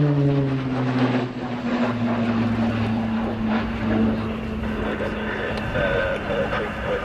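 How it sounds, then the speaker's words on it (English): The up-rated Garrett TPE turboprop engine of a Short Tucano T1 drones steadily overhead during a flying display, with a shifting pitch as it passes, loud and continuous, with faint talk underneath. "That distinct noise you'll hear throughout the display is the up-rated Garrett TPE turboprop"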